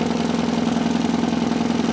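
Small engine with a modest non-automotive muffler idles steadily and fairly loudly with an even, rapid low throb, then cuts off abruptly at the end.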